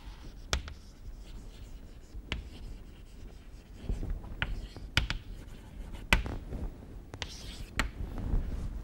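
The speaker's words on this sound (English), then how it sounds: "let me write it here." Chalk or marker taps and scratches on a board during a mathematics lecture, with sharp clicks of strokes scattered irregularly over a soft scratching hiss, the lecturer's voice murmuring faintly in the background.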